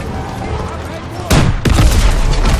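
Gunfire and blasts in a Call of Duty WWII battle against a Panzer tank, with a constant rumble of combat that breaks into two sharp, loud explosive bursts.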